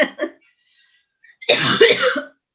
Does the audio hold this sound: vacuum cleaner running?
no